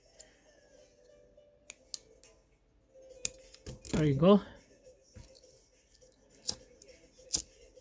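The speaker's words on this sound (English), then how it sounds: "then you cut with the scissors like a triangle shape" A few short, crisp snips of scissors cutting thin titanium sheet, with quiet clicks and a brief spoken phrase in the middle.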